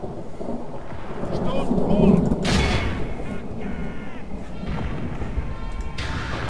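Deep, rumbling booms of cannon artillery fire roll through a battle in Medieval 2 Total War, a sustained low thunder swelling around the second mark and continuing under the mix without speech.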